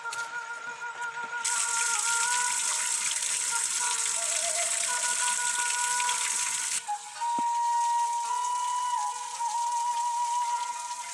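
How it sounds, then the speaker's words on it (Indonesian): Heavy rain pouring over hillside rice terraces, a dense steady hiss that starts suddenly and holds loud, then eases to a lighter patter with faint whistling tones in the background. "mudah-mudahan hujannya reda"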